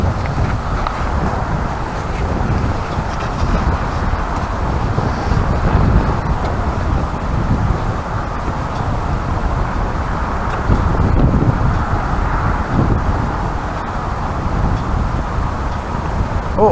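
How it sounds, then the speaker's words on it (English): Cold, biting wind buffets the microphone on the Holderness coast during a cod fishing session, a steady rough roar with low gusty rumbling that swells and eases throughout, with no voices. "This is a biting wind, this."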